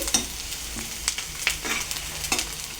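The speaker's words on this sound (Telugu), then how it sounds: "ఆనియన్స్ని వేసుకుందామండి. ఇవి బాగా ఏగనివ్వాలండి." Chopped onions fry in a pan with a low sizzle, broken by several sharp scrapes and clinks as a spoon stirs them against the metal, fairly quiet and close.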